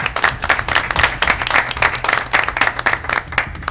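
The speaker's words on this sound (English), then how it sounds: "I want to give them a great big round of applause" A crowd at a village board meeting applauding steadily, dense overlapping claps at a loud, even level throughout with no voices.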